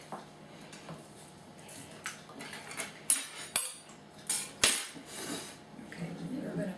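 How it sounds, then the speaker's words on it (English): A spoon stirs blackberries and sugar in a bowl. Scattered clinks and scrapes against the bowl grow louder and more frequent midway, over a quiet background. "Then you need a couple cups of sugar, sweeten those up. Stir it up really good."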